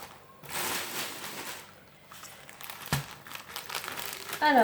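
Close, crackly crinkling of bubble wrap packaging being handled, rising and falling in bursts with a sharp snap partway through, with no voices.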